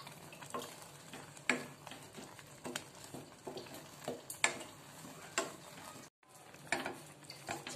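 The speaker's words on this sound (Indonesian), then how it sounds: "setelah margarinnya seperti ini sudah larut ya bun lalu selanjutnya kita masukkan kelapa parut tadi" Grated coconut stirred into melted margarine in a Teflon pan for wingko babat: a low frying sizzle with repeated clicking spatula scrapes, close and steady, briefly cutting out near the end.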